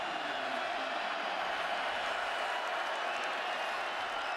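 A football stadium crowd roars in a steady, dense wall of cheering and some applause at Norman, Oklahoma, during a 2015 college game between Iowa State and Oklahoma.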